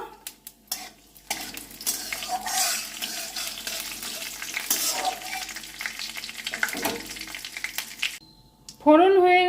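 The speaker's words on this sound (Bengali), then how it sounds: "তার মধ্যে আমি দুটো শুকনো লঙ্কা দিয়ে দিচ্ছি আর সামান্য সাদা জিরা ফোড়ন দিয়ে দিলাম ফোড়নটাকে একটু হতে দেবো" Dried red chillies and white cumin seeds tempered in hot oil for a Bengali spinach dish, giving a soft continuous sizzle with stirring and utensil clinks. A brief higher tonal sound comes at the very end.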